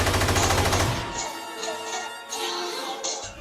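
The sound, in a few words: gunfire in a Jurassic Park fan film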